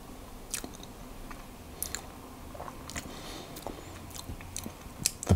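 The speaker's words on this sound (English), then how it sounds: "so I'll try a lemon curd one" Close, crisp chewing of a short, crumbly lemon curd thumbprint cookie, irregular crunchy bites and mouth sounds repeating quietly for several seconds with no talking.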